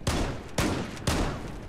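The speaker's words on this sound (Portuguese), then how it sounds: "Tiro de 12 no peito, o cara não morreu, velho." Three loud 12-gauge shotgun blasts in the shooter game Zula, evenly spaced about half a second apart, each a sharp close crack with a short ringing decay and no talk.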